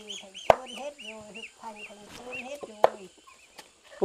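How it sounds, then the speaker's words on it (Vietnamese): Chickens cluck and call close by in a highland Muong and Thai village in Hoa Binh, Vietnam, with repeated short clucks, two sharp knocks and people talking nearby. "Ô, cái này có cả gà cũng ăn này."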